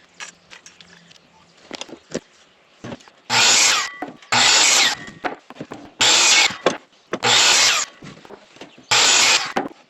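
Power saw slicing through wooden rafters in five bursts of a second or so each, separated by quieter handling and knocking of lumber, near and loud.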